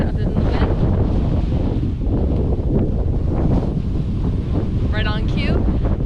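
Steady wind roars and buffets a microphone outdoors on a hike, a loud continuous rumble filling the whole stretch, with a faint voice-like whistle briefly rising near the end.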